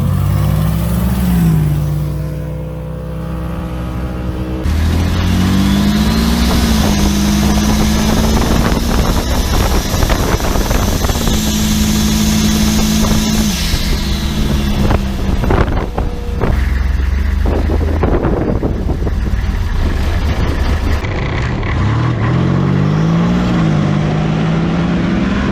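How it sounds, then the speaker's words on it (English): Cheap Corvette fitted with a turbocharged diesel engine doing a burnout, a loud, close engine roaring through repeated revs with rising pitch sweeps, wind buffeting and harsh tyre-spinning noise. "Do a burnout."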